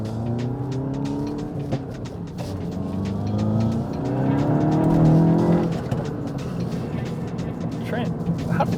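Volkswagen Golf MK8 with a manual transmission driving, its engine droning steadily and rising through a rev climb and shift, heard close from the cabin with tire noise throughout.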